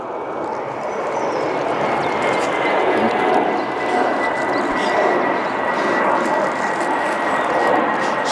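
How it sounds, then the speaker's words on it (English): A steady roar of aircraft engines over a garden plot, a broad continuous rumble from nearby planes landing and taking off with no pauses. "It's got the aeroplanes landing and taking off,"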